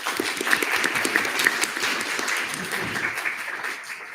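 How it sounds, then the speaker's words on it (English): Clapping from members at a student senate meeting, a brief burst of many hands applauding together that gradually thins and fades over a few seconds. "We can clap. We can clap."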